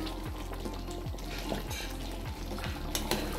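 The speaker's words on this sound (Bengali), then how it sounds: "আস্তে আস্তে হালকা হালকা করে নাড়তে হবে নাহলে ভেঙে যাবে" Thread-tied cabbage leaf rolls gently turned in a frying pan, with soft, regular scraping strokes repeating under a low, even sizzle at fairly quiet volume.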